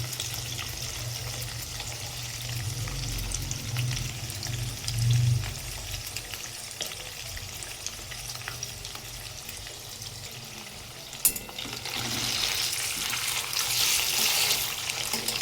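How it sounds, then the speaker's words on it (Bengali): Paneer fries in a pan with a soft, continuous sizzle. A single clink cuts in partway through, and the sizzle grows a little louder toward the end. "সব পনির দেওয়া হয়ে গেছে, এবার এটা ভাজবো।"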